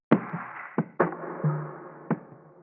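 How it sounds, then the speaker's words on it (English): A sparse percussion loop, pitched down an octave and bandpass filtered, gives a few sharp, knocking hits with short ringing tails and a low thud between them, dry and close with no talking. "I went ahead and added this perc loop from an Only One kit"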